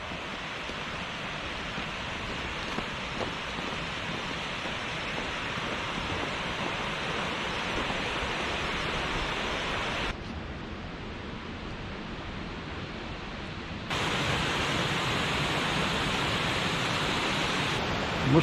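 Suuçtu Waterfall near Mustafakemalpaşa in winter conditions, a steady broadband roar of falling water heard at a distance, constant and unbroken with no talk.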